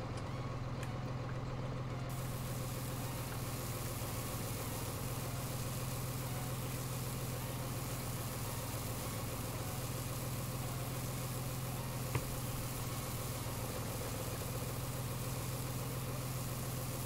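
A John Deere tractor engine idles in the Farming Simulator 19 video game, a steady low, even drone that holds constant throughout with no other sounds.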